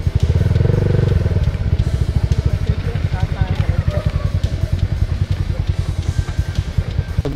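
A motorcycle on a dirt trail near a stream crossing runs with a close, steady, rapid engine putter throughout, loud and even.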